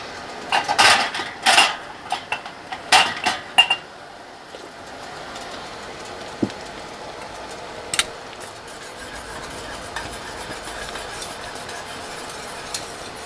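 Glass jars being pulled out and set up for watermelon jelly, clinking and knocking in a burst of close clatter during the first few seconds, then a quiet kitchen room tone with a few isolated light taps.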